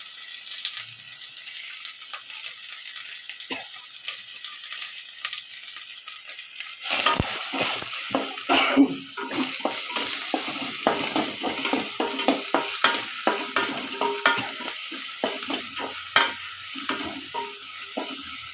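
Onion and asafoetida drop into a hot pan and burst into sizzling after a quiet start, followed by continuous crackling and a rapid series of scraping stirring strokes close by.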